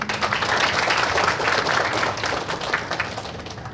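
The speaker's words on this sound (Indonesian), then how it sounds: "Boleh saya diberikan tepuk tangan?" Audience applause at a sixth-grade primary school farewell, a dense, steady wash of many hands clapping throughout, fairly close and unbroken, with no voices standing out.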